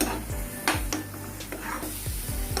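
Onion frying in a pan for rajma masala, a steady sizzle broken by clattering spoon-against-pan stirring strokes at irregular intervals, heard close with no talking.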